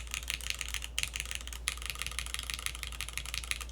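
Typing on a Matrix HIYA mechanical keyboard with GMK keycaps makes a quick, steady patter of close, soft clacks, with a couple of slightly louder keystrokes over a low background hum.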